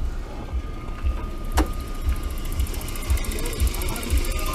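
A used car's engine idling quietly just after starting at a used car market in Kazakhstan, heard as a steady low hum with soft rhythmic pulsing and a few faint mechanical clicks.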